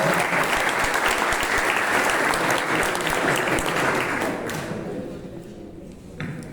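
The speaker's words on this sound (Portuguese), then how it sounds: "uma salva de palmas" Steady, dense applause from a seminar audience greeting a prize draw winner, loud and sustained before thinning out near the end.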